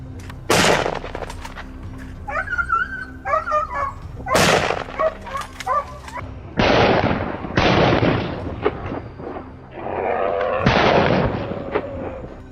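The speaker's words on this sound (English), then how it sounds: "A rapid burst of gunfire echoed, and the beast collapsed before it could flee." Gunfire aimed at wild boars during a hunt: several loud, sharp shots spaced a few seconds apart, each echoing out, with animal cries in the gaps between them.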